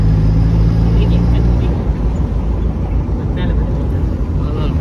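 A boat engine drones steadily near a beach, a loud continuous rumble with low hum throughout, while people's voices come through over it.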